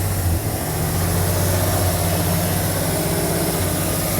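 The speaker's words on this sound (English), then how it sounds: "Let's see if the old F350 gonna run." An old Ford F350 pickup truck engine rumbles steadily at idle, a low continuous drone with a slight roughness, close by and without any talking.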